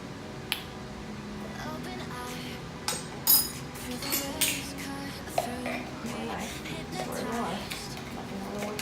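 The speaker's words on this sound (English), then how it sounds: "Use a spoon to get some of this out" A spoon scraping and scooping from a container while making healthy chili for a crockpot, with a few sharp clicks and knocks against the side and quiet kitchen clatter in between.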